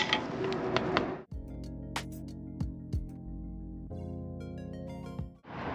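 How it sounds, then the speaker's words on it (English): A large screwdriver is struck against a clamp on a Tacoma tie rod boot, giving several sharp metallic knocks over a sustained whirring, ringing mechanical drone, with no talking. "we're just going to take a large screwdriver, set it on the top of that clamp, and kind of beat it off the back"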